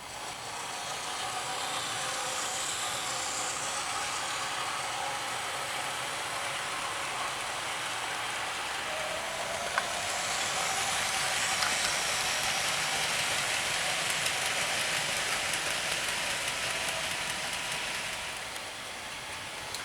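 A British Rail Class 56 diesel locomotive in EW&S maroon livery runs steadily, giving a continuous broad rumble and wash of noise at constant level for about twenty seconds, with no talk.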